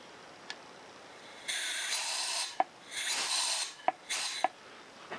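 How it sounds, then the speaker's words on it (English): Compressed air is blown in short hissing bursts into the top port of an old Suzuki Boulevard motorcycle carburetor, with several sharp clicks between the blasts, close and fairly quiet. "If you blow compressed air in there, the slide should lift."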